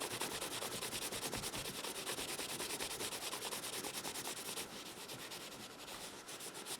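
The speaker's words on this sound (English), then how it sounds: "take this rag, hold that knife again, and very lightly buff it" A rag lightly buffs bush butter onto a knife blade, making a faint, continuous soft rubbing and swishing that holds steady throughout.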